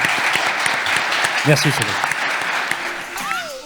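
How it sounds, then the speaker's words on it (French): A crowd at a city event in Metz claps in a dense burst of applause while someone speaks briefly over it. The clapping stays loud and continuous throughout. "Un tonnerre d'applaudissements"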